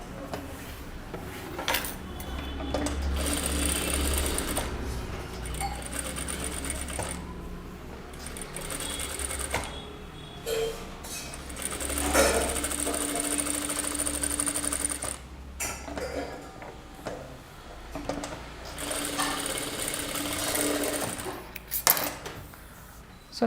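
A sewing machine stitching a deep-neck kurta runs in several bursts of steady whirring, broken by clinks and handling of fabric and tools, close by in a quiet room.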